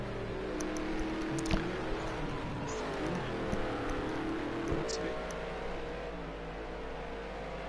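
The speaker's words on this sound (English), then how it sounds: "I don't know if it's these cars are quite loud." Race car engines from the old Camaros roar steadily in a video game race at Watkins Glen GP, New York, a continuous loud drone with shifting pitch as cars rev and pass, under quiet voice chatter.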